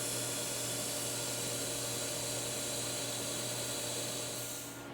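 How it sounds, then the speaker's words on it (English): Two pieces of scrap steel tubing are welded together in a garage during a header build. A loud, continuous hiss with a steady underlying hum holds unbroken and close throughout. "I just welded these 2 pieces of scrap tubing together."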